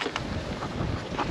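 Wind buffets the microphone outdoors by the sea during a fishing trip in Denmark, a steady rushing roar with brief gusty bursts, close and fairly loud.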